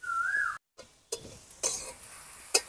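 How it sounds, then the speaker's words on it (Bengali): Grated carrot stirred in ghee over a medium-to-high gas flame for carrot laddu, with short scraping stirs and a soft sizzle broken by brief gaps, plus a faint whistle-like tone at the start. "গ্রেট করা গাজরটা যখন আমি নাড়বো, আপনারা যখন গ্যাসেতে করবেন মিডিয়াম টু হাই ফ্লেমে করবেন"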